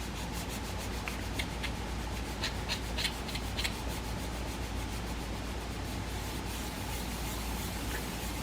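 A glued paper piece is rubbed onto a card by hand, a faint, steady close rubbing with light brushing strokes and soft scratchy ticks, no speech.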